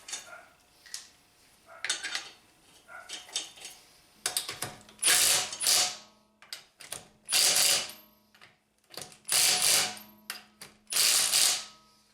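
Ratchet wrench snugging the wheel lug nuts on a Honda Accord after tie rod end and power steering boot work, with repeated close bursts of rapid clicking separated by short pauses, no talking.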